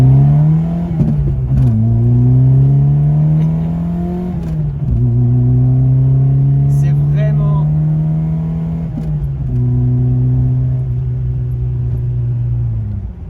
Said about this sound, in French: ces petits moteurs à l'ancienne avec les carburateurs, c'est addictif